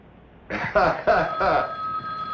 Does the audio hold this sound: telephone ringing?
yes